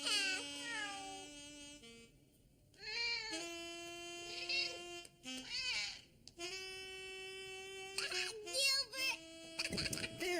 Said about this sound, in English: Gilbert, you silly cat!